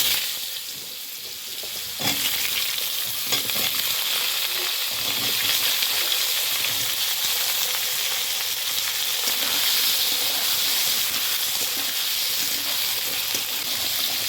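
Sliced kohlrabi and potato fry in oil left from frying fish, seasoned with salt and turmeric, giving a steady, dense, close sizzle with faint stirring throughout and no talk.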